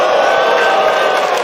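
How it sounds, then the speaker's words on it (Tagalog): Loud, sustained crowd roar and cheering at a FlipTop rap battle between Pistolero and J-Blaque, a dense wall of shouting voices that holds steady without pause. "Grabe, crowd reaction"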